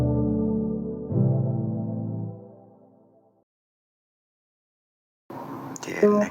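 R&B sample built from a soft chord pad through a Space Light Gold Roses preset, lows trimmed and highs lifted with parametric EQ; two sustained chords fade into a gap before a brighter, airy burst returns.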